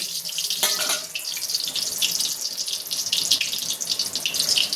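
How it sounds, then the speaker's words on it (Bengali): Boiled spiny gourd pieces coated in gram flour fry in hot oil. A bright, hissing sizzle rises and falls unevenly throughout, close and fairly loud, with no speech. "এই যে কাঁকরোলগুলো ভেজে নেওয়া হচ্ছে।"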